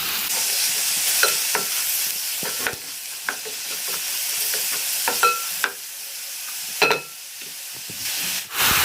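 Minced meat frying with wilted onions in a pan for Egyptian moussaka, a steady close sizzle and hiss broken by repeated scraping stir strokes, with no talking.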